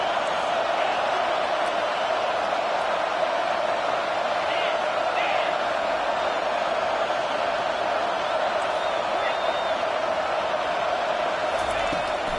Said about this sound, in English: This crowd rising up, sensing that its defense needs some help